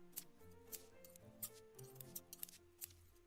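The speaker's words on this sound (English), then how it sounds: "Oh, and there's shears here." Shears snipping through nettles, a series of short, crisp cuts spaced at an uneven rhythm, quiet and close with faint ticking clicks between them.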